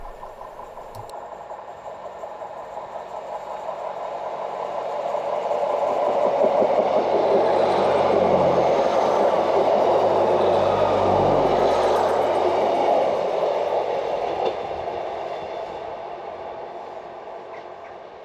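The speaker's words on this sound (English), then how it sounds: "Class 150 Sprinter DMUs 15249 and 15221 passing through Lelant Saltings" Two Class 150 Sprinter diesel multiple-unit trains rumble past Lelant Saltings station on the St Ives Bay Line, engine drone building to a peak midway and then slowly fading into the distance, with no voices.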